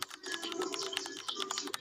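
Fast typing on a computer keyboard as a web link is entered, a quick steady run of close, light key clicks with no voices.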